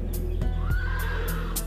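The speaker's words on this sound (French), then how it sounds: "Les voisins de Tracy, Wayne et Sharon Fry, la laissent souvent monter leurs chevaux" A horse whinnies in a drawn-out, wavering call over a steady low background, with a few sharp knocks like hooves or stable sounds; no voices.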